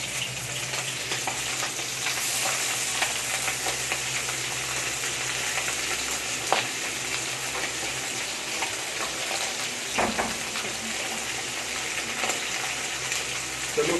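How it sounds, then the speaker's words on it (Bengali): Five fish sizzle in hot oil in a pan, a loud, unbroken crackling hiss with scattered pops and a faint clunk around the middle, no talking. "পাঁচটা মাছগুলো আছে, এগুলো ভেজে নিতে হবে।"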